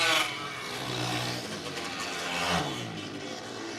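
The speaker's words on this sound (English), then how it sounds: "sounds like the 2-stroke is given up down the back straightaway" A two-stroke go-kart engine on a race track during the final laps, heard as a continuous nearby motor drone that swells in pitch and loudness with throttle changes, with no voices.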